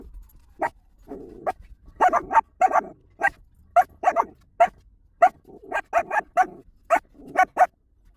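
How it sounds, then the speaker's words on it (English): Puppies inside a parked car bark and yip in short bursts, some quick doubled barks, with soft whimpers between them; close and fairly loud, with no talking. "We'll see what the puppies do."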